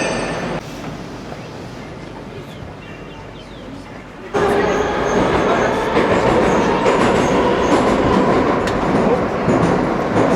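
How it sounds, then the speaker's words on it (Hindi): One of Moscow's oldest metro trains rumbles and clatters nearby, growing much louder partway through as wheels rattle along the track, with people talking in the background. "ये वाली जो मेट्रो है ना, ऐसा मानो मॉस्को की सबसे पुरानी मेट्रो है"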